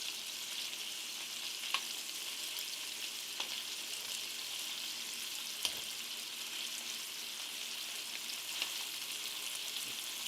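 Meat sizzles steadily in a hot pan, a dense even crackle of frying broken by a few soft clicks of stirring or turning, with no voices.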